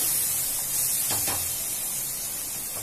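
A spatula stirs egg fried rice and onions in a hot pan, mixing in salt. Two quick scraping strokes cut through a steady sizzle that runs throughout.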